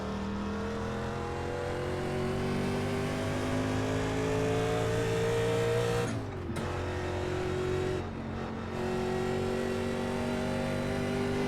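A 1987 NASCAR Winston Cup Chevrolet Monte Carlo racing in iRacing, its V8 engine droning loud and steady at high revs, with two brief lifts of the throttle before it climbs again.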